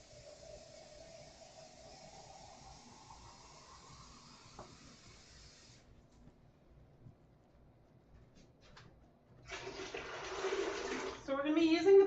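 Tap water pours steadily into a large metal dye pot that was once a steamer basket, with a rising hiss as the pot fills, then a pause and louder, closer splashing near the end.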